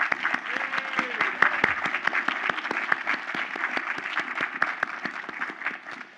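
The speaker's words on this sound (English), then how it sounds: "please join me in an enthusiastic round of applause" A room full of people applauding at a visitor center ribbon cutting, steady dense clapping at moderate volume that carries on throughout and tapers slightly at the end.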